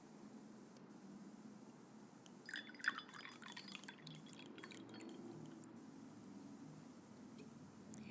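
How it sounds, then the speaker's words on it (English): Wine poured into a glass in a quiet room, a short trickle and splash with light drips and faint glass clinks, soft and close. "Let me pour you some wine."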